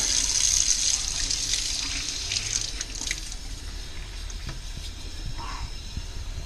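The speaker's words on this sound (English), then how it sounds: "get the water going just right" Steady rushing of shower water, constant and fairly close, with a few faint clinks and knocks mixed in, in a makeshift temporary shower.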